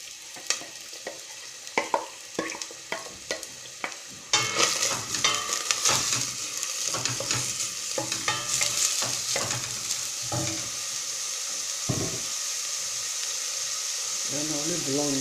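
Onions fry in hot oil in a casserole, with sharp clatters and scrapes at first, then a louder, continuous sizzle that holds steady to the end, close up and alone.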